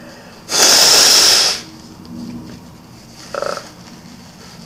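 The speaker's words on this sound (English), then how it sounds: "Gotta blow my nose." Someone who is sick blows their nose once: a loud, forceful, hissing honk lasting about a second, followed by quieter breathing and small sniffles.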